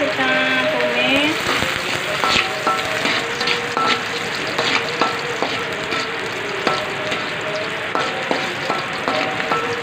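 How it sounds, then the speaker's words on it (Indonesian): Steady crackling sizzle of garlic frying in two spoons of hot oil, with occasional scraping clicks of a utensil stirring, close and continuous. "Panaskan minyak 2 sendok ya Bunda, kita masukkan bawang putih, kita tumis."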